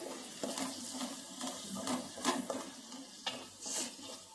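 Garam masala and fish masala stirred as they fry in a pan for fish biryani, heard as soft, intermittent scraping strokes over a quiet sizzle, fairly faint and close, with no voices.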